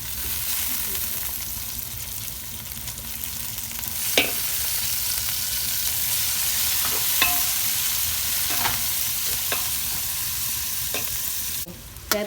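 Curry leaves and onion fry in a pan with a steady sizzle, broken by a few sharp crackles and spatters from the leaves, close and fairly loud, with no voices.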